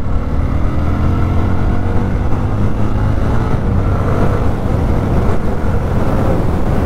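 A Jawa 42 motorcycle engine running as the rider shifts up through all six gears, a loud, steady, close-up drone with a smooth low hum and no clear revving peaks.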